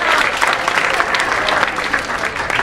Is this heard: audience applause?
yes